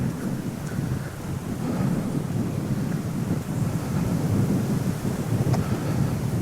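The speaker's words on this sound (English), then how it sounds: "Serious wind right here." Strong wind buffets the microphone at the edge of the woods, a steady loud roaring rush that keeps up throughout with no speech.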